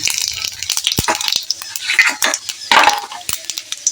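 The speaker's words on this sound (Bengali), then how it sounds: "এতে দিয়ে দেবো জিরের ফোড়ন" Cumin seeds hit hot mustard oil, just used for frying garlic, with a close, busy crackle and spitting sizzle, mixed with sharp clinks and scrapes of a utensil against the pan.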